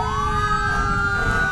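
A Walker County ESD fire engine's siren wails steadily as the truck rolls through a Christmas parade, loud and close over low road rumble.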